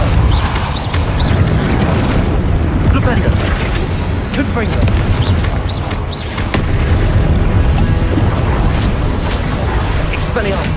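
Explosive spell blasts from Confringo in Hogwarts Legacy, a loud booming burst that rolls through dense, continuous game combat noise lasting throughout, with voices heard over the action.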